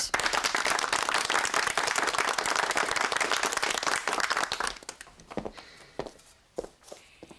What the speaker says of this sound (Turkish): Ay alkış!